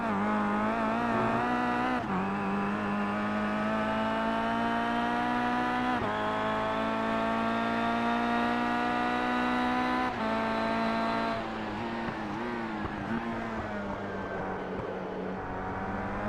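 Onboard a KIA Cup race car at Donington Park heading into turn 1: a loud, steady engine drone held close, its pitch climbing and then dropping at each gear change through the clip, with no voices.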